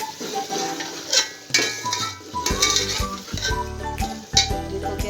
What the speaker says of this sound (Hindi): और अब मैं इसको अच्छे से फ्राई करूँगी।